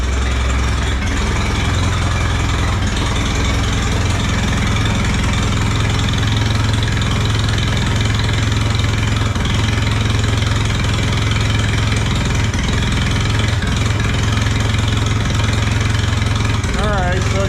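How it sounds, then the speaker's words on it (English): An Allis Chalmers B tractor engine idles loud and close, a constant low throbbing drone that holds steady throughout. "we got the motor running"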